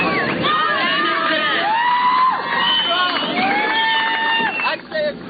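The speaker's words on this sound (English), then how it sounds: "Now the crowd's picking their favorite." Crowd cheering and shouting at a 1988 street-style BMX contest in Huntington Beach, a steady loud roar of many voices with rising whoops, heard close and continuous with no clear speech.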